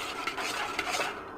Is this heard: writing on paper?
no